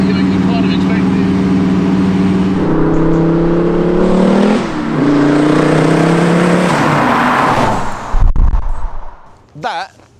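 A 400bhp diesel Commer pickup accelerates hard, its loud engine note climbing in pitch over several seconds before cutting off abruptly; wind and brief voices follow near the end.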